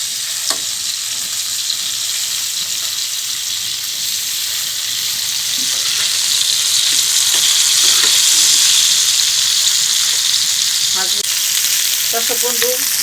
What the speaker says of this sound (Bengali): দেখেন আমার মাছগুলো ভাজা হয়ে গেছে